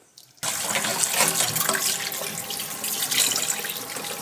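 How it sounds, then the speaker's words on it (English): Soaking water poured out of a pot of pork neckbones into a sink, a steady splashing rush that starts abruptly after a brief quiet moment and runs loud and close until the end. "poured out the water that it was soaking in"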